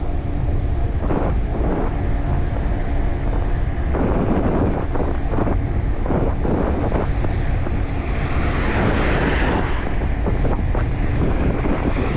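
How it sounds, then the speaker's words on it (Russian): Strong gusts of wind buffet the microphone on a Crimean coastal drive route near Sudak and Koktebel, a loud continuous rumbling roar with surging bursts throughout, no voices. "Ветер капец."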